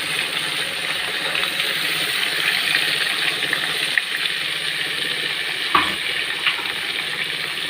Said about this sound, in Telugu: ఫ్రైలో ఉల్లిపాయలు వేసేసుకుంటున్నాను